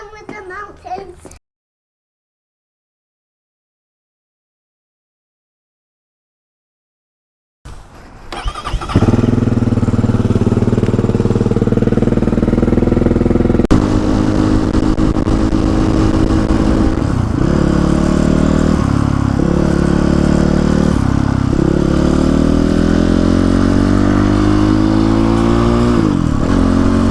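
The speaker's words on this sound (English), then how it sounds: "I'm going to take the GPX FSE 300R out for a bit of a dual sport ride." A GPX FSE 300R dual sport motorcycle cranks over and fires up after a brief silence, then settles into a loud, close engine drone that rises and falls through gear changes on a mountain ride, with a voice heard briefly at the start.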